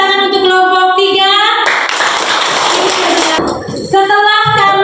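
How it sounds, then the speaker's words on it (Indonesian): Classroom applause for a student group presenting in class: a burst of clapping from pupils lasting about two seconds between stretches of speech, loud and close, with children's voices around it. "Tepuk tangan untuk kelompok 3."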